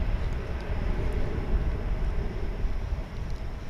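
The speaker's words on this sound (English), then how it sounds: "Here's the Cancun flight going out in the background." Airliner on the Cancun flight departing Dallas/Fort Worth International Airport, a steady low engine rumble heard from a distance, unbroken and moderately loud with no voices.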